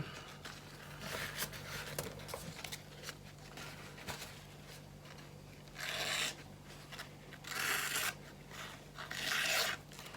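Repeated dry rasping swipes of a knife edge sharpened on a rock cutting through paper towel, in short bursts over a steady low hum.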